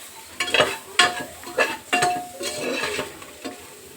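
Sambar powder frying on low flame in a pan, stirred with a utensil: repeated scraping strokes with a light sizzle beneath, close and moderately loud, no talking.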